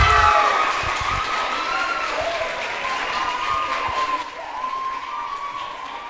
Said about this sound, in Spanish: recibimos con un fuerte aplauso a Miranda